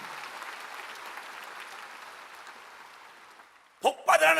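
A large church congregation applauds steadily during a Sunday afternoon service, then the clapping fades out, and a voice starts speaking at the end.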